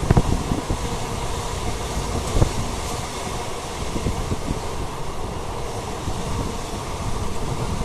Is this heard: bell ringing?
no